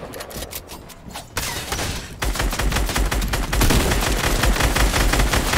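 Dense, rapid gunfire from a video game shootout, bursts of automatic shots that build louder and thicker toward the end, close and sharp with no talking.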